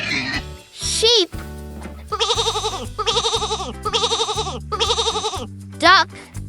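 A sheep bleats in four evenly spaced wavering calls over a steady background music loop, close and loud, with short voice-like sweeps at the start and end.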